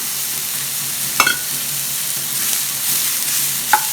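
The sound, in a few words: sautéing chopped bitter gourd in a pan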